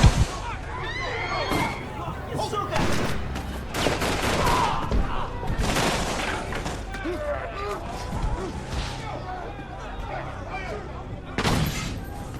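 Police gunfire in a film scene, made of dense bursts of rapid shots and crashing impacts that come in waves, mixed with dialogue and a dramatic soundtrack.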